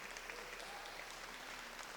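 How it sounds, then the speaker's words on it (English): A wedding audience at the National Gallery of Canada in Ottawa claps during the speeches, a faint, steady, continuous applause heard from a distance with no speech over it. "Can we have a round of applause for this beautiful venue?"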